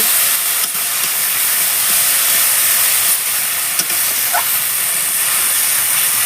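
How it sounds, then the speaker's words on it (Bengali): Spice paste hisses and sizzles in hot oil as it goes into the pan and is stirred, a steady close frying noise with a few faint knocks and no talking. "আগে মশলাটা যে পেস্ট করে রেখেছিলাম আমি দিয়ে দিচ্ছি একটু নেড়ে নেব"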